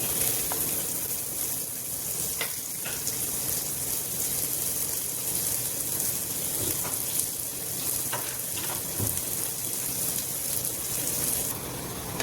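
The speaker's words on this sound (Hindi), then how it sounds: "अब करेंगे, जीरा पक गया है, अभी थोड़ा प्याज डाल देंगे।" Onion sizzles and fries in a cumin tempering, a loud continuous close crackle with occasional stirring scrapes, no voices.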